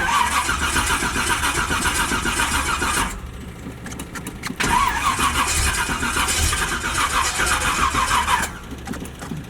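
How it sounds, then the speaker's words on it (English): A V8-swapped Monte Carlo with a cold, weak battery is cranked nearby. The loud churning crank runs for about three seconds, dips briefly, then the engine surges back with a sustained rough roar and a faint squeal. "So we about to crank this thing up."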